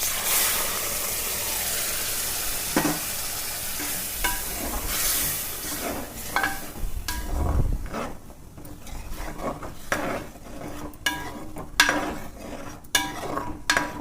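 Curry mixture stirred in a pan over low heat, with a steady soft sizzle and repeated scraping strokes of a spoon against the pan, plus occasional clinks of metal. The sounds come from close up and no one speaks.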